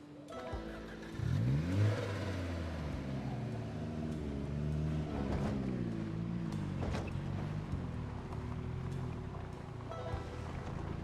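A car in the video game Project Zomboid drives into a large parking lot, with a steady engine drone whose pitch rises and falls as it moves, heard alone and fairly faint throughout.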